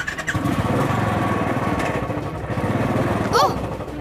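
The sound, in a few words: motorcycle engine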